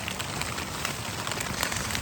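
Steady rain falls on a surface at a mountain hiking camp on Mount Kerinci, a dense continuous patter with no voices.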